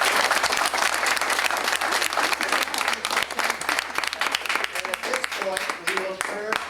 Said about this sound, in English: We would like you to applaud frequently and loudly